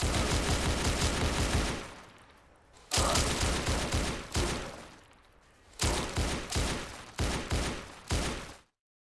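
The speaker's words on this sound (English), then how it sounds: "I just tap fire or shoot short bursts to mow down small hordes where they can build up" Automatic rifle fire rips out in the zombie video game Those Who Remain: two long sustained bursts, then a string of short, sharp bursts with brief gaps, loud and close.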